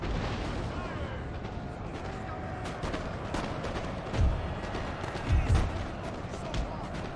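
Cannon fire in the Napoleon: Total War strategy game sounds as a few deep, distant booms over a busy battlefield hum, with voices heard around them.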